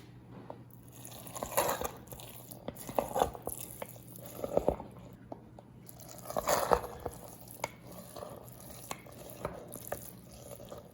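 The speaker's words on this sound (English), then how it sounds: "I'm going to stir this carefully." Makgeolli mash with nuruk being stirred in a jar: soft wet squelching and sloshing in slow irregular strokes, close and fairly quiet, with faint clicks against the container.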